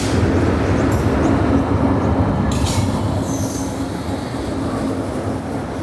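Kanchan Kanya Express (Sealdah–Alipurduar) rolling through a five-platform station, a steady loud rumble of wheels and carriages with a brief metallic squeal mid-passage, no voices.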